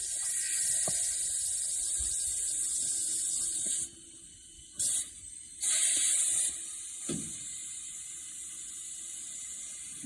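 Compressed air hissing loudly into a semi truck tire being mounted on a rim, a steady close rush broken by a couple of brief pauses before fading to a quieter hiss.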